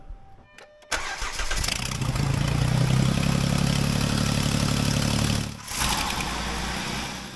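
After a few quiet ticks, a Jeep engine cranks and catches with a sudden roar, then settles into a steady, rumbling idle with a brief dip midway.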